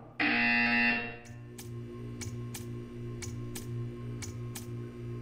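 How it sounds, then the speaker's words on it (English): In the video game Portal 2, a loud, harsh test-chamber buzzer blares for under a second, then gives way to a faint, steady ticking over a low electronic hum. "You will hear a buzzer. When you hear the buzzer, stare at the art."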